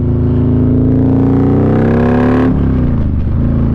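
A 177-horsepower Harley-Davidson 128 Street Glide with Zipper's Performance engine pulls hard under throttle, its loud harmonic drone rising steadily before an abrupt shift at about two and a half seconds, then rumbling on close and dominant.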